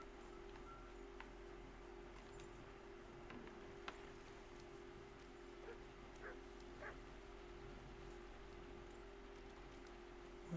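A dog in the medieval role-playing game Kingdom Come Deliverance 2 gives soft yips and a few barks over a low, steady ambient hum.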